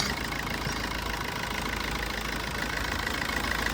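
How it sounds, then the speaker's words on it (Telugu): Maruti Suzuki Dzire ZDI diesel car engine idling after starting, a steady close clattering diesel rumble with a slight knock, continuous and unbroken, with no voices. "సింగిల్ సెల్ఫ్లో అయితే వెహికల్ స్టార్ట్ అవుతుంది"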